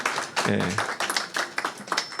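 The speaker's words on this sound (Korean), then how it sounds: "억지 박수 감사합니다" A few church congregation members clap reluctantly, producing sparse, uneven handclaps at close range with voices mixed in.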